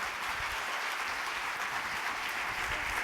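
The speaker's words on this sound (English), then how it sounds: "give him a round of applause," Steady audience applause at a conference talk, a dense continuous clapping that holds at an even level throughout with no voices over it.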